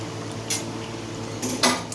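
Meat in a cooking pot gets stirred, with two or three brief metallic scrapes and clinks of a spoon against the pot over a low background hum, close and short.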